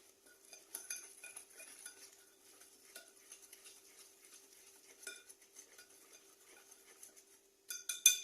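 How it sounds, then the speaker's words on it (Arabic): Basbousa batter being mixed in a bowl, with light spoon or whisk clinks and scraping on the dish, fairly close and quiet, no talking. "صافي كنخلطوا هاد المقادير مزيان"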